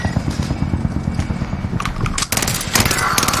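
Rapid machine-gun bursts from a first-person shooter battle, continuous rattling fire that grows louder and denser partway through, with sharp closer shots cracking over the din.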